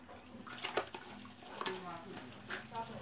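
An Arno fan's cup being washed with a cloth and water mixed with powdered soap, giving faint splashing and wiping sounds with a few soft knocks against the plastic, under quiet speech.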